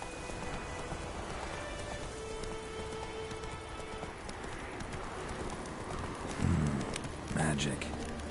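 Hooves of Roach, a horse in a PS4 game, clip-clop steadily through falling rain, with distant thunder rumbling in the background.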